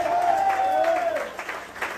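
A church congregation claps at an anniversary service, brief applause heard under a voice that keeps talking.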